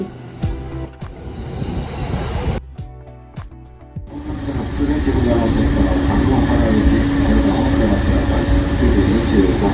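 A 15-car Japanese train rumbles close by with steady mechanical noise, briefly dipping before swelling into a loud continuous roar as it runs past or pulls through.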